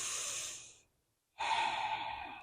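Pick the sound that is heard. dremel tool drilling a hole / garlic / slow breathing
slow breathing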